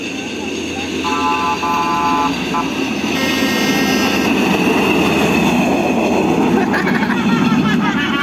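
A train rolls past close by, a loud, steady roar of wheels and carriages with brief horn-like tones riding over it, and a voice speaks beneath the noise.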